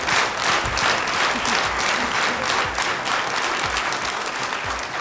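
Audience at the Got Talent Armenia quarterfinal gives dense, sustained applause that stays strong and even throughout.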